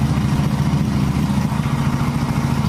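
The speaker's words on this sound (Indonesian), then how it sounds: "kompresor angin sedang dinyalakan." A workshop air compressor runs steadily beside a Jupiter Z motorbike engine, a loud, continuous, close mechanical rumble with a faint clattering pulse and no pauses.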